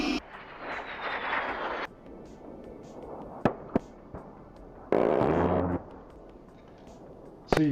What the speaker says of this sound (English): It's an A10 Warthog.